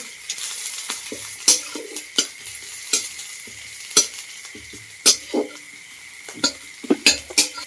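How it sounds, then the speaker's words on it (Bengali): Chopped onion and green chili sizzle in hot oil in a pan while a spatula scrapes and stirs them, giving a steady hiss punctuated by sharp, irregular metallic clacks against the pan, close up and with no talking. "পেঁয়াজটা হালকা বাদামি কালার যতক্ষণ না আছে একটু নাড়তে থাকবো"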